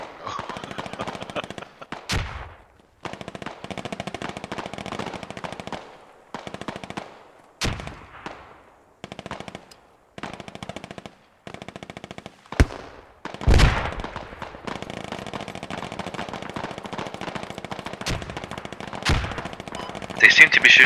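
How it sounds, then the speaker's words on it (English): Distant and mid-range gunfire on the Kokan Valley map of the game Squad, with scattered single shots and automatic bursts, a few sharp nearer cracks, and low talk between shots. "They seem to be shooting towards where we're walking."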